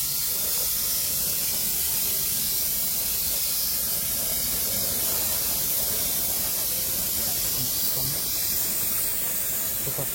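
Spray gun laying body colour onto Ganesha idols in a workshop: a steady, close, continuous hiss of spraying that runs without pause the whole time, with a faint low rumble beneath.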